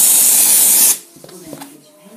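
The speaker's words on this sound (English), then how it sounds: "this is what a spray duster does when you spray" A loud, sharp hiss of compressed air from a spray duster held upside down, spraying for about a second, then it cuts off, leaving faint clicks and handling sounds.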